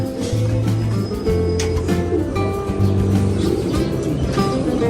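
Soft, repeated low cooing from wet pigeons that have strayed into a falcon tower loft, continuing steadily and fairly close throughout, with faint chirps above.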